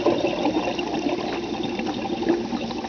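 Gasoline bubbles through a bubbler with a steady, dense liquid gurgle and hiss that runs close and even throughout, with no voices.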